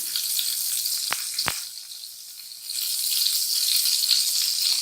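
Bread slice sizzling in hot oil, butter and margarine in a pan for chicken mince toast, a steady close frying hiss that dips briefly and swells again, with two sharp clicks early on and no talk.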